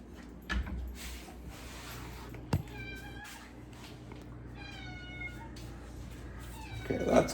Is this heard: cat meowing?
yes